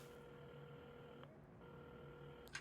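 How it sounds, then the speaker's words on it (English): Telephone being dialed in the video game Assemble with Care, a quiet, steady run of faint dial tones with a couple of soft clicks, heard alone without talk. "at the counter, Carmen had started dialing the phone."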